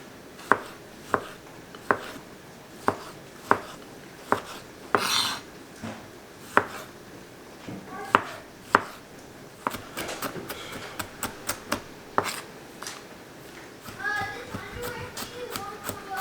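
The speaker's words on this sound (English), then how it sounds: "I'm gonna roughly chop these tomatoes." A knife roughly chops tomatoes on a board in a home kitchen, striking in steady, evenly spaced knocks before breaking into faster, clustered cuts, with light clatter around it.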